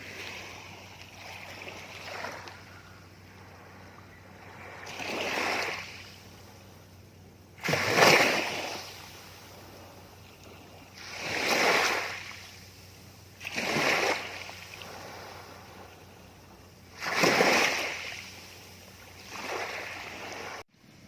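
Waves wash in on a shore at Ao Thong Tanot, Sawi, Chumphon, at a steady rhythm, about every three seconds, each swell rising to a rushing crash and fading back into a low roar.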